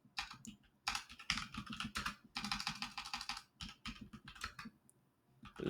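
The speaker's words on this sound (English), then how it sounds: "I just got a new keyboard and I keep screwing up my typing with this thing" Rapid typing on a new computer keyboard, bursts of dense key clicks broken by short pauses, close and fairly quiet.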